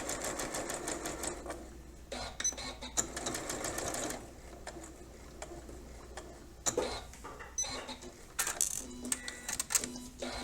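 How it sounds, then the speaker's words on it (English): A sewing machine stitches a French seam a quarter inch from the fabric edge, running in short bursts of rapid mechanical clatter separated by brief pauses. "I have sewn 1/4 inch from the edge of the fabric."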